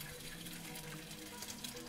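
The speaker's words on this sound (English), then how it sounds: "you crack open some eggs and turn on the stove. Curiosity gets the better of you, and you glance at him as the eggs sizzle" Eggs sizzling in a pan on a stove, a steady hiss and crackle that runs evenly throughout, close and moderately loud with no talk.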